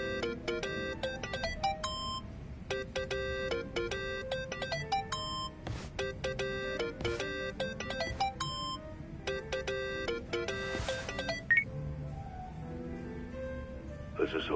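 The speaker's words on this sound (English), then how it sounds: "Think that's your phone, man." Mobile phone ringing in a Yakuza video game: a bright, repeating electronic ringtone melody plays in bursts over a steady background bed, with a voice speaking alongside it.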